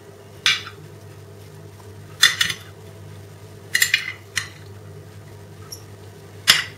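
Raw tuna, chopped onion and leek are tossed with soy sauce in a bowl, giving a few separate clinks and scrapes of a utensil, spaced a second or more apart, with no talking.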